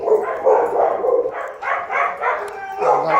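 Small dogs barking and yipping close by in a series of short, rapid bursts, with a brief whimpering whine near the end and no clear talking.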